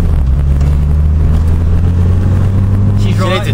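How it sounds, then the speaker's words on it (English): A car engine idles with a deep, steady exhaust rumble close by, a constant low drone, with faint voices in the background. "Listen to that beautiful exhaust."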